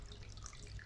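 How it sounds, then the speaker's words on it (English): Water pours from a container into another vessel to submerge a Rubik's cube before freezing, a soft, faint continuous splashing trickle with no voices. "So I have the water over here and let's pour it."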